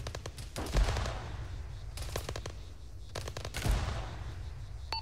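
Bursts of automatic and single-shot gunfire from an Arma 3 combined-arms military battle, rapid cracks clustered in several volleys across the clip at moderate distance, with a faint voice murmuring underneath.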